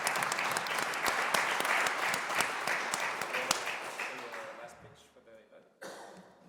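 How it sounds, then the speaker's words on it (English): Audience applause at the close of a panel session on carbon removal budgeting and carbon markets, a full sustained round that thins and fades near the end, with a cough and a few voices. "Let's give a round of applause to them."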